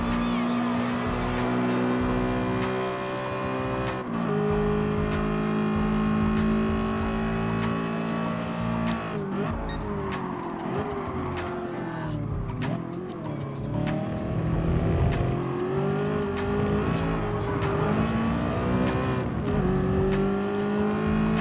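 A first-generation 2007 Audi R8 races in Gran Turismo Sport, its engine droning and shifting pitch steadily with revs rising and falling throughout, with tire squeal and other cars around, and a voice talking over it.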